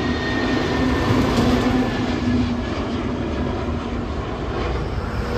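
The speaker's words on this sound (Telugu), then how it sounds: "ఫ్లైట్ చూసారు మా మీద పోతుంది." Airplane engine roar from a flight passing overhead near an airport, a loud steady broadband rumble with a faint whine holding throughout, no talk.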